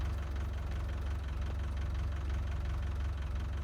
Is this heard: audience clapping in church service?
no